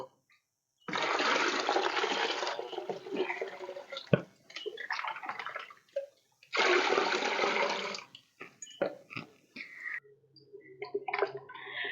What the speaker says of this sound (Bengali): এবার আমি এটা তিন লিটার জল আমি এই মধ্যে মিশিয়ে দেব